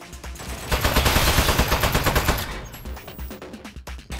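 Rapid automatic turret gunfire in the Aperture Desk Job video game rattles loud and close in a dense burst, then thins into scattered shots and clicks.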